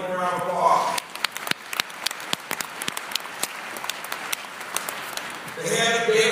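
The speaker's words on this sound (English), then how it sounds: "Give him a round of applause." Audience applause at a university new student day ceremony, a dense patter of claps with sharp individual claps standing out, swelling at the start and end around brief speech.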